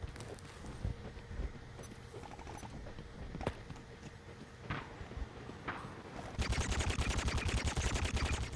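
A 12.7mm machine gun fires in War Thunder Mobile, a dense rapid burst of shots erupting over the last couple of seconds after a stretch of softer game noise with a few scattered thumps.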